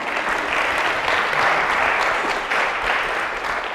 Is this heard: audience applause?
yes